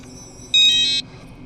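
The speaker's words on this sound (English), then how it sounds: "it's going to have a very loud beep" A single loud, high-pitched electronic beep from an RVLock V4 RV door lock as it unlocks, lasting about half a second, sharp and close, over a quiet background.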